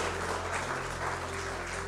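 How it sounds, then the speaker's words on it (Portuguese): A church congregation applauds in a short, steady burst of dense clapping under a low, constant hum. "Dá uma salva de palmas para Jesus."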